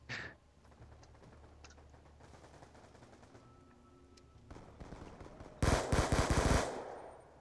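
Automatic gunfire in the video game Black Ops 2, quiet scattered shots at first, then a loud dense burst of rapid fire near the end.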